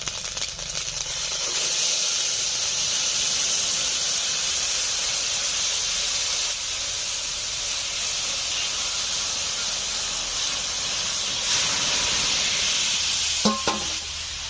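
Bottle gourd curry goes into a hot pan already holding whole cumin and ginger paste, and a steady loud hiss of sizzling and steam carries on alone for the whole stretch, with a few utensil clicks near the end.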